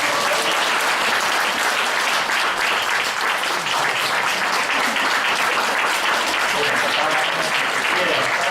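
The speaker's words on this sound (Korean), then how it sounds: "박수 한번 부탁드릴게요" A church congregation at a worship service breaks into loud, sustained applause, with many hands clapping densely and steadily and scattered voices cheering underneath.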